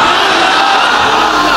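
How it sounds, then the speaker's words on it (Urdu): Loud crowd chanting "Ya Hussain" slogans at a religious gathering, a massed roar of voices shouting together, continuous and close, filling the whole moment. "پوری گلی سے لے کر یہاں تک یا حسین کے نعرے لگ رہے ہوں۔"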